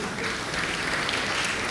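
A congregation at a Sunday church service at JMB Church applauds after a song, producing a steady, moderately loud patter of many hands clapping at once without pause.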